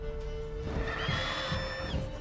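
A horse in The Witcher 3 lets out a brief, faint whinny partway through, set against a steady game soundscape with no voices.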